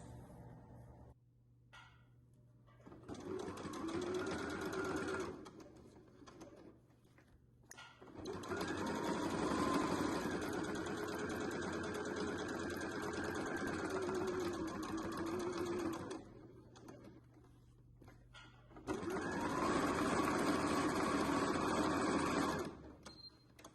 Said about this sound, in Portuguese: vamos pra máquina fazer a primeira costurinha aqui, já marcando os nossos moldes nas duas peças